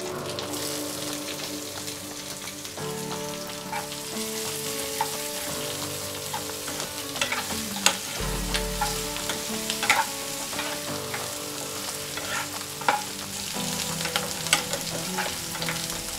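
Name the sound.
onion frying in oil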